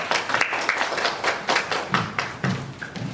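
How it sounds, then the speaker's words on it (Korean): A small group at a social work practicum final evaluation presentation claps quietly and sparsely, with scattered individual claps and taps rather than a full ovation. "큰 박수 부탁드립니다."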